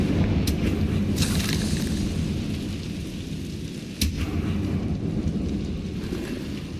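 Confringo blasting spell detonating in Hogwarts Legacy, a single sharp boom near the middle cutting through a constant roaring rumble of game ambience, with a fainter burst earlier.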